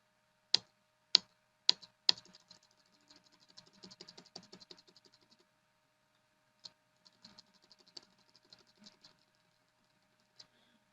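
Keys tapped on a computer keyboard while entering a search pattern in a Linux terminal pager: a few loud separate strokes, then a quick run of light typing, a pause, and a few scattered final presses.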